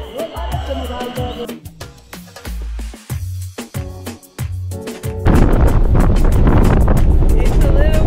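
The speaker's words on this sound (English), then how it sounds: "It's a little bit windy." Wind gusts buffet the microphone outdoors on a cold day in Japan, turning into a loud, continuous roar in the latter half after stretches of people talking.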